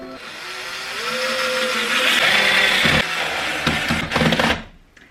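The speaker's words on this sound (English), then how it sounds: "I drill in up until this tape, that I'm not going to go too deep into the wall for the plug" A power drill bores into a wall to make a hole for a wall plug, a steady loud whine rising in pitch and rumbling for several seconds before cutting off, with no talk.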